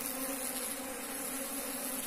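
Bees from a split hive, a dense, steady buzzing of many insects that fills the air evenly and continuously without pause.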